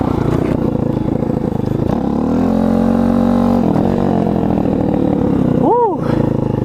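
Apollo RFZ Chinese dirt bike from Amazon, running without a clutch, engine droning steadily and loud, close by, rising into a brief rev with a swooping pitch near the end, with what may be voices mixed in.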